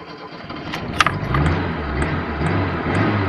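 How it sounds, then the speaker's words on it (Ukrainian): A flooded car engine cranks and catches after a few sharp clicks, settling into a low, steady rumble up close with no talk. "Машина завелась."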